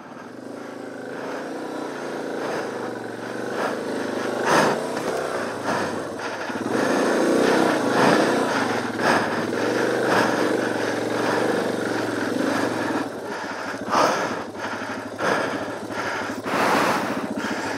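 A motorcycle engine runs steadily nearby for the whole stretch, rumbling with small rises in revs and no talking.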